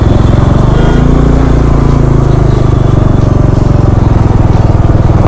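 A Kawasaki H2R motorcycle rides through city traffic, its engine droning loud and close in a continuous rapid pulsing rumble with no let-up.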